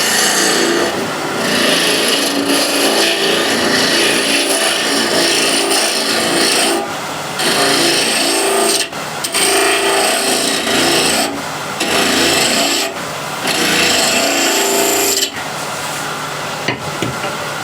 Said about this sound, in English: I want to remove the bulk of this with a spindle gouge